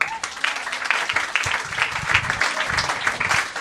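An audience at a live event breaks into loud, continuous applause, dense clapping that fills the whole moment up close without pause.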